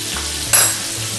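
Minced garlic with black pepper and ginger frying in a hot pan, a steady sizzle with one sharp louder burst of spatter as it is stirred, close and alone.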